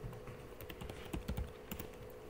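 Quiet, close typing on a computer keyboard, a quick irregular run of soft key clicks with a few louder taps, with no voices over it.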